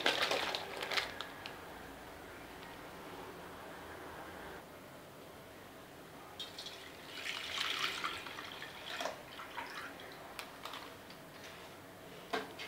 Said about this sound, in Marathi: दूध ओतून झाले.